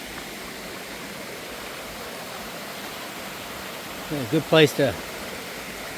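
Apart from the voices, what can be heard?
stream flowing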